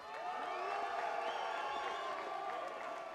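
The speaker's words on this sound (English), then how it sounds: "massive round of applause" Crowd at a fight league event cheering and shouting in a sustained, roaring wash of voices with whoops over it, dense and even throughout.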